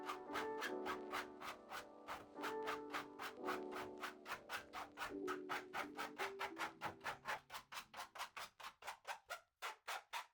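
Rhythmic back-and-forth strokes of a file smoothing the freshly cut metal edges of a camper van window opening, a steady grating rasp that repeats evenly and gets quicker and choppier toward the end, close and alone.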